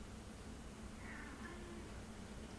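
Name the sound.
cat meowing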